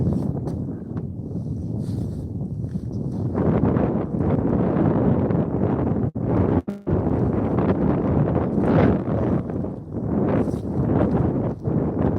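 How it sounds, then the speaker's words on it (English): Strong wind buffets the microphone out on an ice-fishing spot, a loud continuous roar with rushing gusts that surge and ease across the whole stretch, briefly cutting out once. "yeah, it's really windy out here"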